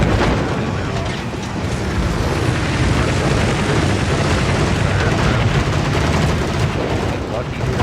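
Bomb explosions and heavy gunfire in a World of Warships-style naval battle game featuring USS United States: a continuous loud roar of overlapping blasts and booms with no pause throughout.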